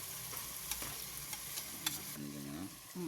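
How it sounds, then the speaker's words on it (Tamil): Tomatoes and mixed vegetables are stirred and sautéed in a pan for vegetable biryani, giving a steady sizzle with scraping spoon strokes and a few sharp clinks, near and alone. "தக்காளி, வெஜிடபிள் போட்டு நல்லா வதக்கி விட்டுக்கோங்க"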